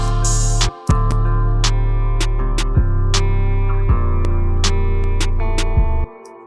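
A heavy 808 bass line and sharp percussive hits drive a steady beat, with layered sustained guitar tones above, cutting out briefly near the start and end.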